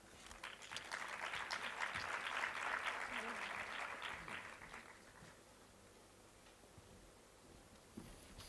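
An audience applauding at a panel event on LGBTI diversity, a steady burst of clapping that swells and then fades out over several seconds, with a voice briefly audible in the hall.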